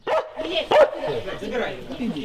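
A stray dog approaches police unloading boxes of food in a war-hit town, giving a few short barks and yips close by over voices talking nearby.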